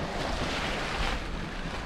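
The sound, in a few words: sailboat under full sail in wind and waves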